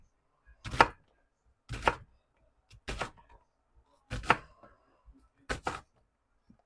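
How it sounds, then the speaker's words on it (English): A knife chops an onion into pieces on a board, five or six distinct, close thuds spaced about a second apart with quiet gaps between. "I'm just going to cut this into pieces."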